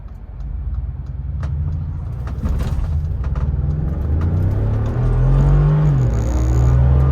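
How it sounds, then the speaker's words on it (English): Mercedes-Benz G-Class AMG launching and accelerating hard, a loud deep engine roar that builds steadily, heard from inside the cabin with no talk. "I'm gonna launch this vehicle."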